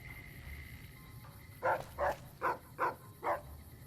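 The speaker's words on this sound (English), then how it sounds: "What's Ray barking at?" A companion dog in Fallout: New Vegas barks five times in an even rhythm, fairly close, over a low game ambience.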